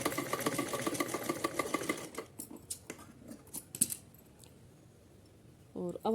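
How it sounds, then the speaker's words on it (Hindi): A sewing machine runs a double line of stitching through cotton fabric, its rapid mechanical chatter steady and close for about two seconds before breaking into scattered clicks and handling noises, with a brief voice near the end. "चलिए, एक सिलाई लगा ली, हम डबल सिलाई लगा लेते हैं यहाँ पर।"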